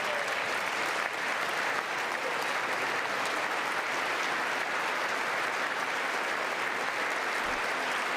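A chamber full of members of Congress applauds during the State of the Union address, sustained dense clapping that holds steady for several seconds, heard from a distance, with no talk over it.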